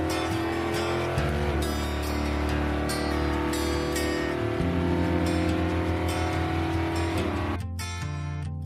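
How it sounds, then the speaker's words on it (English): A drag car makes a first-gear launch on a street during a no-prep racing test pass, its engine a loud, steady high-revving drone that shifts pitch midway and cuts sharply near the end. "I made a first gear launch on the street and it ran in 846"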